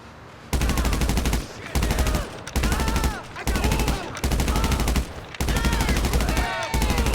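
Bursts of automatic gunfire from shooting enemies in GTA Online's Cayo Perico heist, rapid repeated volleys separated by short pauses, loud and close, with a faint voice in between.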